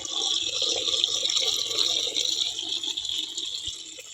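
Water pours steadily into large storage jars, a continuous close splashing and gushing that runs throughout without a break.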